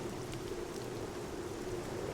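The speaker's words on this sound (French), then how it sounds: "la pluie battante, tout illuminée d'or, paraît vouloir résister" Heavy rain pours down at night in a steady, dense hiss with scattered drops, continuous and loud with no voices.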